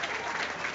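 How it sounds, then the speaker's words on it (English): Home fans at a Livingston v Rangers football match give a short burst of warm applause, a dense patter of distant clapping heard under a radio commentator's voice. "warm applause from the home fans for the efforts of the players"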